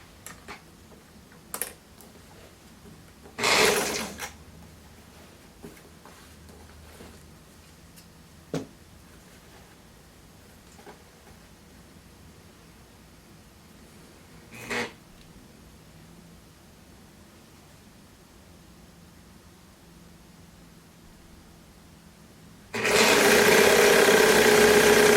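A sewing machine stitching a gym top whirs into a loud, steady run near the end, after long quiet stretches broken by a few brief handling knocks.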